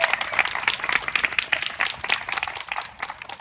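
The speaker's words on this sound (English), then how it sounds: "Give her a round of applause." Outdoor audience at a Pride flag raising applauds, a steady patter of many hands clapping at moderate distance for a few seconds, thinning slightly toward the end.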